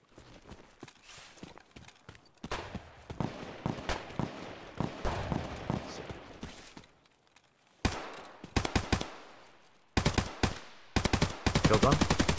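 Gunfire in the video game Escape from Tarkov, first faint shots and footsteps, then loud bursts of close automatic fire in short strings and a long sustained spray near the end, with no talking.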